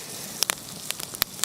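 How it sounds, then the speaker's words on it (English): Fish sizzle over a charcoal fire at a campsite. The sound is faint, with a low crackling hiss broken by scattered sharp pops and snaps. "Oh, sizzling in their juices."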